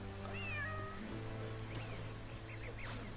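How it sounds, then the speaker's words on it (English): A cat meows several times in the LittleBigPlanet level Dreamy Forest Trail, the rising cries clear over a steady game music bed with low sustained tones. "Oh, there's a cat."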